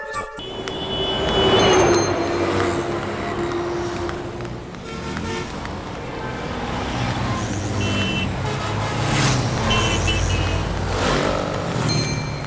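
Heavy road traffic rumbles steadily nearby as cars, trucks and buses pass, with engines droning, occasional horn-like tones and a continuous loud wash of roadway noise.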